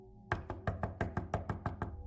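Knuckles rap on a front door in a steady run of about ten sharp, close, evenly spaced knocks, with no speech.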